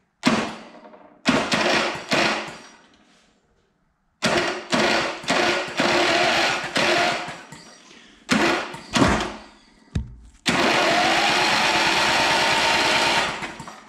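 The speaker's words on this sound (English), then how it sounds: "Starter works." A go kart's starter motor cranks in a series of short whirring bursts separated by pauses, then a longer sustained run of cranking near the end, close and fairly loud.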